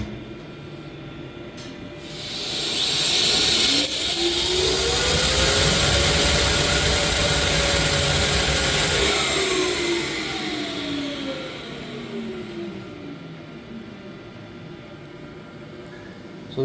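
A Holset turbocharger on a balancing machine spins up into a loud rising whine, holds a high sustained tone with sweeping harmonics, then winds down as the pitch falls away.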